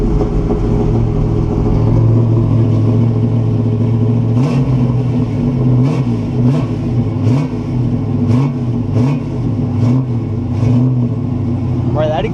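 A 1969 Buick Special Deluxe engine warms up, idling steadily at about 1500 rpm for a long stretch, droning close by with a faint rhythmic ticking over the low rumble.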